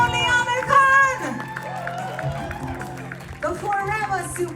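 A live audience at a 25th-anniversary event for the film Sarfarosh breaks into applause and cheering for Aamir Khan, with clapping and excited shouts under a host's amplified voice speaking over the crowd.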